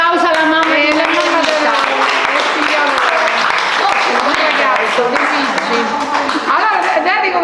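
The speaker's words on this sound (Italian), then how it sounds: "Un applauso alla mamma di Maria Rita." Audience applause for the mother of Maria Rita at a book presentation of poems in Pontinia, a steady, dense clapping wash that continues for several seconds, with musical tones and voices mixed underneath.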